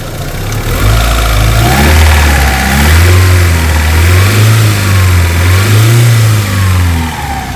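An Opel Blazer Montera SUV engine is revved up and down repeatedly from idle, its loud, close drone rising and falling in a slow, wavy rhythm with no voices over it.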